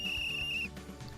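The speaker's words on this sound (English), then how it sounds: "with a blow of a whistle, the match was finally over" A single sustained referee whistle blast ending a volleyball match in Sanrio Boys, shrill and clear for about half a second, then cutting off over low background music.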